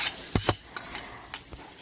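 Minced onions and garlic are stirred in melted butter in a pan. A utensil scrapes and clinks against the pan in several short, uneven strokes over a faint sizzle, close up.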